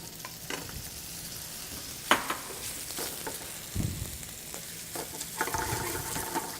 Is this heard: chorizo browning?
yes